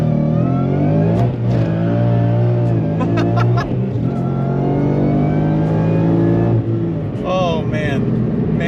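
A supercharged 2016 Ford Mustang GT with a manual transmission and salvage title accelerating hard, a loud, close engine roar that climbs through the revs with a brief shift break, with people talking and laughing inside the car.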